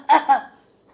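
Two quick, voiced cough-like bursts from a single speaker imitating an improper cough, close and fairly loud, then silence.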